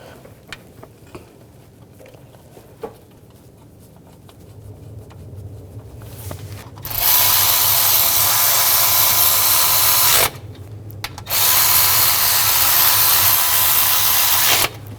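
Power tool tightening bolts on the new serpentine belt tensioner of a 2015-2020 Ford F-150 3.5L V6, with quiet clicks before two loud, sustained bursts of driving that stop briefly between them.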